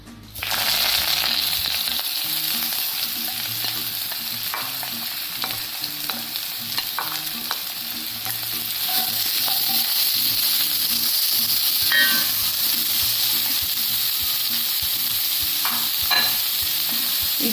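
Masala sizzles and fries in hot oil in a well-heated cheenachatti (Kerala wok) for a boti and koorkka curry, with steady close-up frying hiss and repeated scraping stirs of a spatula throughout, no talking.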